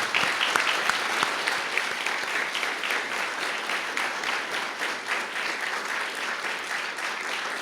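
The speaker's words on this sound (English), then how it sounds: "How about a round of applause for our witness?" A luncheon crowd at the National Press Club gives M. Night Shyamalan a sustained round of applause, loud, dense and even clapping from many hands that carries on for several seconds without a break.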